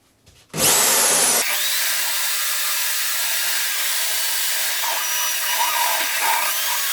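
A valve gripped in a spinning drill chuck whirs steadily while 80-grit wet and dry paper sands its surface, a sustained close-up power-tool drone that starts abruptly after a brief quiet moment.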